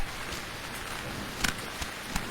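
Rain falls as a steady soft hiss, with a few sharper drip-like taps standing out now and then, and no voices.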